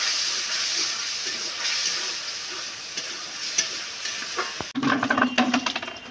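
Fish curry being stirred in a pan, with a steady sizzling hiss through most of the clip, followed near the end by closer, louder scraping and stirring strokes.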